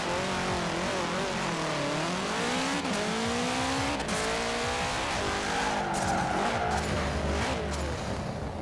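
A car launching in Forza Horizon 4, the engine revving and climbing through gears with loud tire squeal, continuous and close for the whole stretch with no speech over it.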